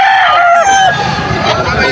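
Stag roosters at the Bocaue poultry market in Bulacan crow loudly and close by, one long drawn-out call with other fowl clucking and market noise behind it.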